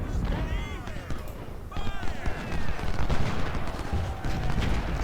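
Sniper rifles firing during a Stones River battle in Ultimate General: Civil War, with a steady crackle of overlapping musket and rifle shots and distant artillery booms, loud and continuous throughout amid shouted battlefield voices.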